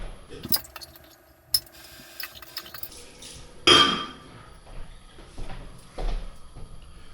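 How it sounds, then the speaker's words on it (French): Dishes, pots and a blender jar being washed after making vegetable soup: scattered clinks, knocks and splashes of running water, with irregular sharp clatters and quiet gaps in between, close up and without speech. "La vaisselle, elle est faite."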